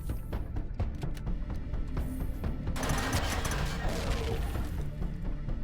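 Automated turrets fire in the space survival game Empyrion with sharp repeated shots, then a dense crackling barrage takes over the second half amid mechanical game noise.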